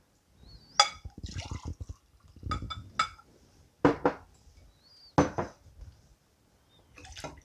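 Shrimp water poured from a measuring cup into a cooking pot for jambalaya, splashing and trickling in several separate pours with light clinks in between, close and fairly quiet, no voices.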